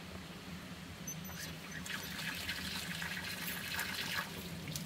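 Water poured onto a freshly repotted Phalaenopsis orchid in its pot, a steady soft splashing and trickling that holds throughout, fairly close and alone without talk.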